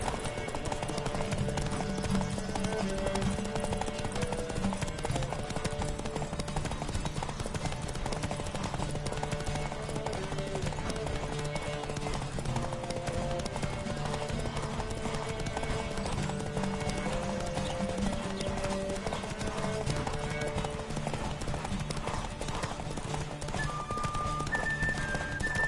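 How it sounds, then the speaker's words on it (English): A horse gallops in a race in the video game Witcher 3, producing rapid, rhythmic hoofbeats that run steadily throughout over a musical score, with an occasional whinny. "Don't spare the horse!"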